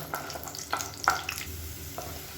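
Garlic cloves sautéing in a pan sizzle softly while a spoon scrapes and stirs them in several distinct strokes, with one sharper clink near the middle.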